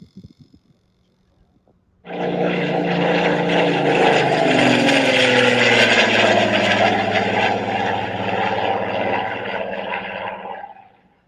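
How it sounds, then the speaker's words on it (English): Engine of an RC model airplane flying in windy conditions, starting abruptly after a brief quiet and then holding a loud, steady buzzing drone for about nine seconds before fading out, no talking. "I can't think of a better plane to fly in the wind than this"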